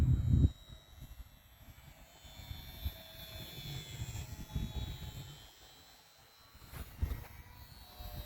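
A Guillow's Beechcraft Musketeer kit model airplane at full throttle in flight, a thin distant buzzing engine drone that swells and fades as it passes, with a few louder gusts and bumps close to the microphone.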